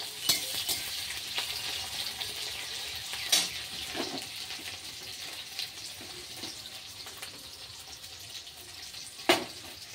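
Onion, garlic and green chili frying in hot oil, a continuous crackling sizzle with scattered sharp pops and a few brief stirring clatters, close up and without talk.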